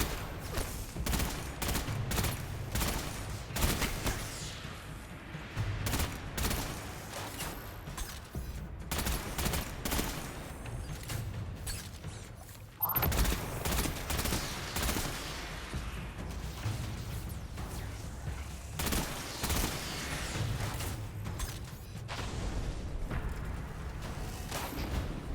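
Gunfire in the video game Destiny 2: dense, continuous volleys of rapid shots and bursts with occasional heavier blasts, loud and sustained, with a brief lull midway.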